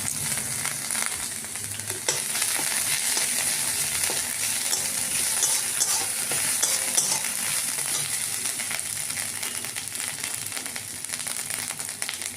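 Grated ginger frying in white oil in a wok gives a steady, close sizzle with fine crackling that holds evenly throughout.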